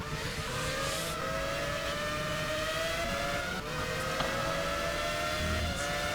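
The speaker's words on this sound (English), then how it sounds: "I can hear the engine sounds." Formula One car engines in a racing video game, high-pitched, rising and falling tones layered in a steady continuous drone with no voices.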